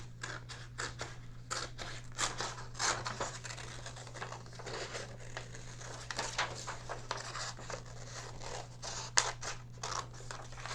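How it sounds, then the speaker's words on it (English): Scissors snipping paper for a craft project, a quiet close series of irregular crisp cuts with occasional paper rustling over a low steady hum. "I'm going to get scissors and we're going to start cutting away."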